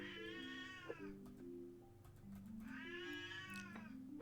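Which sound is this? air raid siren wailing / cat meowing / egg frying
cat meowing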